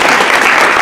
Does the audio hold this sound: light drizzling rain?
no